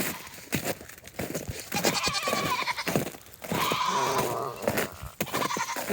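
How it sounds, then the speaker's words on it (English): Several goats bleat on a farm on a cold, icy day, loud and close, with repeated overlapping calls and short gaps between them, over wind and outdoor ambience. "I have some goats that are making some noises."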